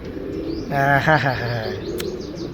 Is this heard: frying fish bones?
no